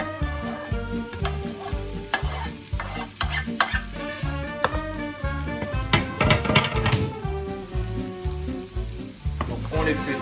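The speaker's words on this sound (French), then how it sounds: "L'huile est chaude, nous allons faire d'abord revenir nos oignons." Onions frying in hot olive oil in a pan, a steady close sizzle with repeated stirring scrapes and utensil clicks throughout, loud and unbroken, no talking.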